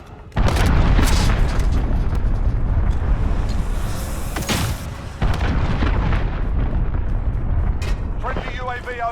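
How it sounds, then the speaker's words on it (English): Call of Duty Modern Warfare multiplayer match with a cruise missile strike: heavy booming explosions and rumbling blasts roll out in repeated bursts, loud and close, with crackling debris and gunfire between impacts. "Allied cruise missile away"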